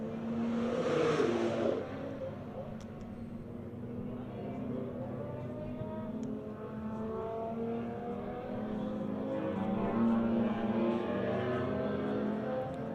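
A BMW race car on a circuit passes at a distance, its engine note rising and settling in a steady drone, faint and somewhat muffled, with a brief louder burst at the start.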